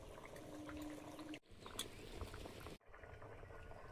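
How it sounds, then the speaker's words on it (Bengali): Fish curry gravy bubbling at a boil in a pot, a steady low simmering churn that carries on through the whole stretch with two brief breaks. "আর দুটো মানে ঝোলটা ফুটছে"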